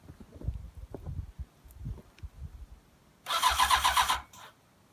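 A motorcycle engine coming out of winter storage is cranked after some low clunking and handling noises, then catches briefly with a loud, rough burst of sputtering running before cutting out, close by.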